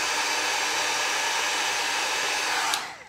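A heat tool blows hot air over clear embossing powder on a birthday card, a steady loud whoosh that cuts off abruptly near the end.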